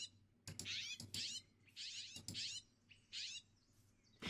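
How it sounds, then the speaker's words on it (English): A pinyon jay from the Sonorama bird mod in Minecraft gives a series of harsh, nasal calls in rhythmic bursts, each call short and moderately loud, with no one speaking. "next up we have a pinion jay"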